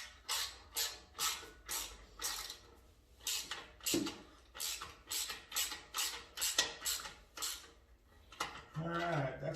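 A wrench works on the bolts of a Harley-Davidson factory exhaust, giving close, rhythmic bursts of ratcheting clicks in quick, regular succession, with a brief rustle at the end.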